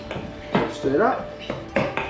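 Fish cake mixture of Australian salmon, flour and beans being stirred in a bowl, giving a few close, uneven scraping and clinking knocks against the dish, with a voice speaking briefly in the middle.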